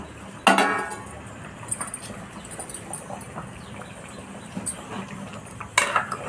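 A spoon stirs fish curry in a pot, giving a few sharp clinks and scrapes against the metal, with a soft, low bubbling murmur between them.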